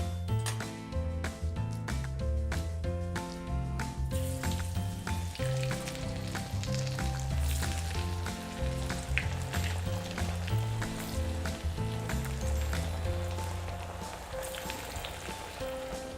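Banana flower vadas deep frying in hot oil give a steady, bubbling sizzle that runs throughout, partly masked by continuous background music with no talking.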